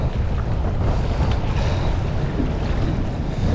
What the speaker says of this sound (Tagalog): Tataas ng alon oh.